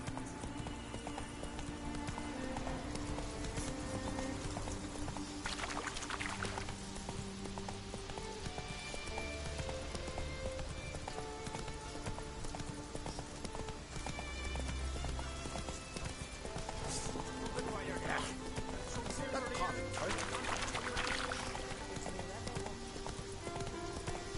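Roach, the horse in The Witcher 3 video game, galloping: rapid, steady clip-clop hoofbeats with occasional neighs, loud and continuous, while voices talk over the game sounds.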